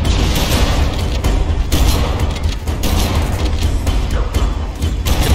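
Loud, dense game battle from Halo: The Master Chief Collection, a grenade blast booming amid continuous gunfire and rumbling mechanical noise against swarms of Flood, sustained and close throughout.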